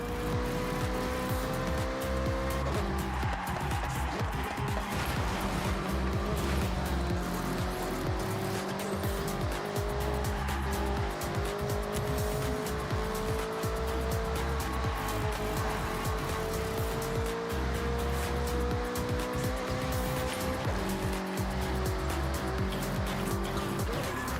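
Forza Horizon 6 racing game: a loud revving car engine with shifting pitch, squealing tires and skids, running continuously for the whole stretch.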